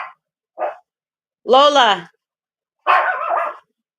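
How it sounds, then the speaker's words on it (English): A dog indoors barks at someone coming through the door, giving a few loud, close, separate barks and yips with short silences between them, while a person briefly speaks. "she's gonna keep barking"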